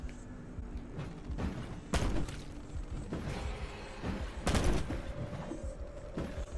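Gunfire in Black Ops 4 Zombies: repeated sharp shots and bursts of varying loudness over mechanical clatter, with heavier blasts near two and four and a half seconds, dense and continuous without speech.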